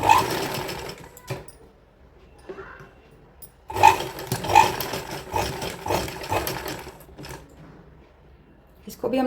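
Short, close bursts of a sewing machine stitching the back neck of a kurti with a dori pattern, separated by pauses with handling sounds.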